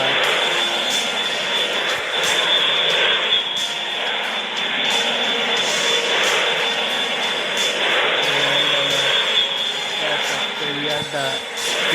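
A Sukhoi Su-35 Flanker's jet engine roars steadily in a flight simulator on approach to an aircraft carrier, a continuous loud rushing drone with faint tonal shifts near the end.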